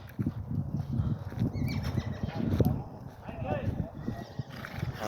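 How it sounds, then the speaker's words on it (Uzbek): Horses moving nearby, with hoof clops and a brief whinny among rustling and people talking in the background. "Mana bizni otlarimiz."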